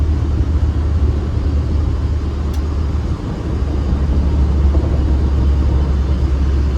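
A restored 1975 BMW 1602 saloon drives with a steady, loud low engine rumble and road noise, continuous throughout with no talking.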